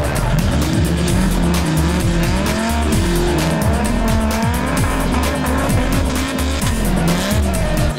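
A Mopar Dodge Viper race car driven hard, engine roaring loudly with rising and falling revs as it shifts, tires squealing and skidding through drifts, close and continuous.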